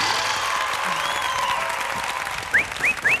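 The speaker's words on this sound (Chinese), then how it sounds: "掌声！" Audience applause from a crowd at a stage comedy show, steady clapping throughout with a few short whistle-like squeaks near the end.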